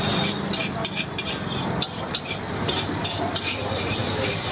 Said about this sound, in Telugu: ఫ్రై అయిన తర్వాత అల్లం పేస్ట్ వేసుకోవాలి.